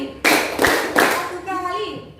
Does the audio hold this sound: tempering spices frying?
no